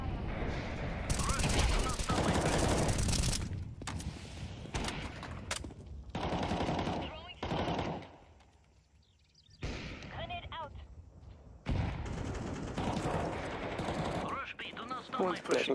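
Rapid bursts of rifle gunfire in a Counter-Strike 2 match, loud volleys broken by short pauses, with a voice talking over parts of the action.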